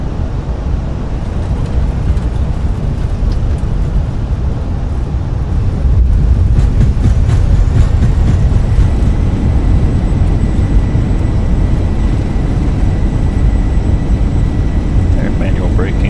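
Fenix A320 thrust reversers roar on landing at Zurich in Microsoft Flight Simulator, a loud, continuous, broad engine rumble that swells midway and holds steady before easing slightly near the end, with no talk.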